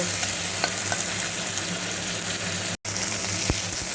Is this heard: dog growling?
no